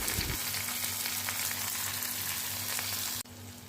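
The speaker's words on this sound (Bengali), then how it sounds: "সেই তেলেই জিরা, পেঁয়াজ, টমেটো দিয়ে ভালোভাবে কষিয়ে তেল ছেড়ে এলে" Cumin, onion and tomato sizzle steadily in hot oil left from frying fish, a loud, even crackle with faint stirring, then the hiss drops abruptly near the end.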